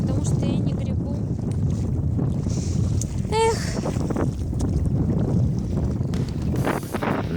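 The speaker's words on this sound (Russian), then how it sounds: "Ветер в разливе на подходе к Усть-Абакану дул встречный и такой сильный" Strong headwind on a kayak trip across a flooded river stretch near Ust-Abakan, roaring steadily into the microphone with buffeting gusts, a brief voice exclamation partway through.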